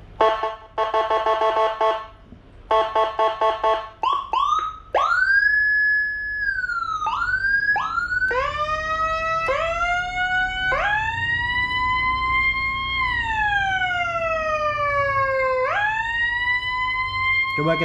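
Whelen 60-watt siren module played through a speaker, cycling through tones: rapid yelp bursts, then rising wails and long sweeping tones, loud and close, with a low hum underneath.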